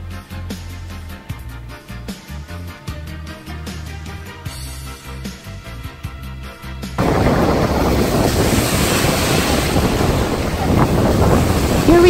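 Music plays at first, then gives way to a loud, steady roar of surf and wind, waves from a small storm on the Black Sea at Divnomorskoye washing continuously onto the shore nearby.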